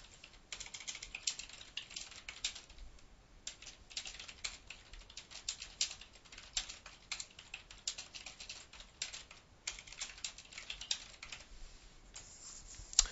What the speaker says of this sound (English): We can just start typing.